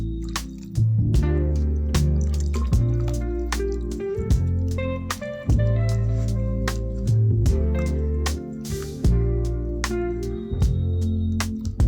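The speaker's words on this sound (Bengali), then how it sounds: "জলটা যাতে সব জায়গায় ভালোভাবে মেশে, সেই জন্য আমি হাত দিয়েই মাখছি" Rice and coconut batter for chakli pitha is worked by hand with water, giving repeated wet squelches and slaps in an uneven rhythm, close and fairly loud, with no one talking.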